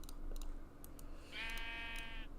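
A single sheep bleats in the Minecraft video game, one short, wavering bleat under a second long, heard alone amid faint keyboard clicks.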